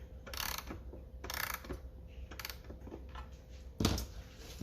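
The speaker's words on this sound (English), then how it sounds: "the left-hand side is the strike, and it winds clockwise" Winding the clockwise strike side of an E. Ingraham parlor clock produces quiet, close ratcheting clicks in short bursts, each run of pawl clicks followed by a pause as the key is turned again.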